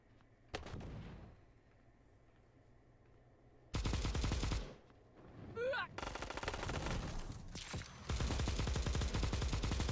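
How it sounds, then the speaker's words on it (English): Suppressive gunfire from the mobile shooter Bullet Echo: loud bursts of rapid automatic shots erupt in several stretches, separated by quieter gaps with game ambience and a brief rising effect. "I've got suppressive fire over the walls."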